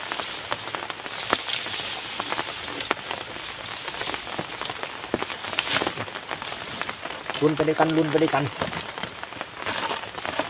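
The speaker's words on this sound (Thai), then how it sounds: "ฝนตกแรง" Heavy rain pours steadily outdoors during an early-morning trip to check fish traps, a dense continuous hiss with scattered drops, while someone talks over it.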